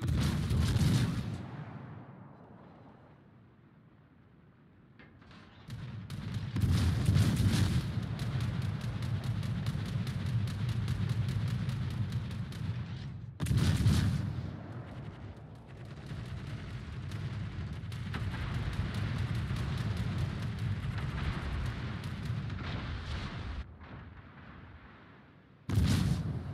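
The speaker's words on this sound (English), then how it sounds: "Anti-aircraft gun crews are on the alert." Anti-aircraft guns fire in a naval video game, producing long stretches of dense, rumbling barrage punctuated by several louder bursts, with a brief lull early on before the firing builds and continues throughout.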